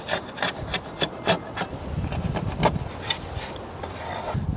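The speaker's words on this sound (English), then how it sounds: "I like to use a straight razor. You can use one of these. Just go along here," A straight razor scrapes old paint and glazing compound off a wooden window sash in repeated short, sharp strokes, close and rhythmic at first and then blurring into steadier rasping.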